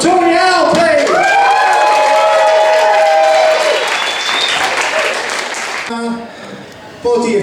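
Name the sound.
audience applause for the first act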